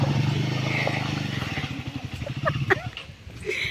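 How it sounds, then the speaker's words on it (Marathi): A motorcycle rides ahead along a muddy, badly broken rural road on the way to a temple near Khanapur, Belgaum, its engine a steady, fairly close rumble with some clatter and brief crackles. "खराब असल्यामुळे मी आणि सुषमा खाली उतरलो आणि गणेश आणि अमय बाईक घेऊन पुढे गेले।"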